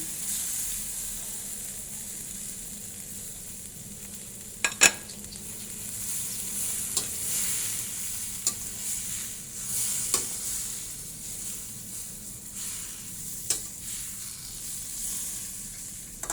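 Corned beef and kangkong stir-frying in a pan, with a steady sizzle and hiss throughout and a few sharp clinks of a utensil scraping and tapping the pan as it is stirred.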